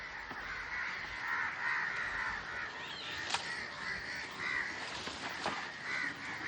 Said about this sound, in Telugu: పిల్లలు లేకపోయినా కానీ కాకులు అయితే వచ్చినాయి